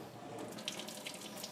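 Hot water pouring out of a pot of freshly cooked pasta noodles into a sink, a steady close rushing splash with a few sharper spatters, ending in a louder burst.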